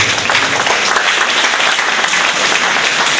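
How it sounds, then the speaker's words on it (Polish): Close, dense applause and clapping from spectators at a regional Special Olympics swimming meet, loud and continuous throughout the short stretch. "zespół, brawa, wielkie brawa"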